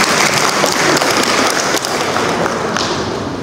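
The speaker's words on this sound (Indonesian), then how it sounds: "Tepuk tangan untuk kita semua." Applause from the audience at a KONI Kota Cirebon sports committee meeting, steady dense clapping that fills the room and carries on loud throughout, fading slightly at the end.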